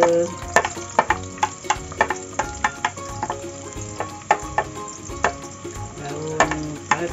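Ginger sautéing in a pan with onions for a Malaysian tuna fish curry, a steady sizzle punctuated by sharp clinks and scrapes of a spatula stirring, close and fairly loud with no talk.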